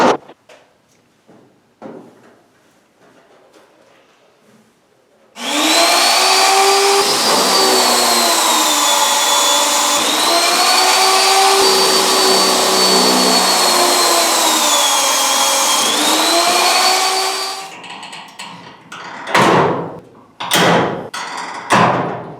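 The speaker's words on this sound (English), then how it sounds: "grinding down the welds so they would sit flat" An angle grinder works down the welds on flat aluminum reinforcement pieces for a kayak, running as one loud, steady whine of about twelve seconds with a wavering pitch, then stopping, followed by a few clunks.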